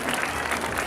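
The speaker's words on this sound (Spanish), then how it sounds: "para quien pido un fuerte aplauso" An audience applauds at a school presentation by the Instituto Nacional Rosendo López in Rivas, Nicaragua, with dense, steady clapping from a crowd throughout this short moment.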